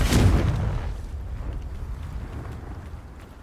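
Confringo blasting spell in Hogwarts Legacy, a single loud booming explosion at the start that decays into a long low rumble fading over a few seconds.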